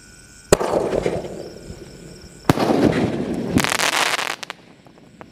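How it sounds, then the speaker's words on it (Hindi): A Diwali firework shot cake fires outdoors, sharp bursts followed by crackling sprays, with a second louder volley and a dense crackling cluster, close and loud with no talk. "और ये जल रहा था हमारा सोनी का इसका शॉट।"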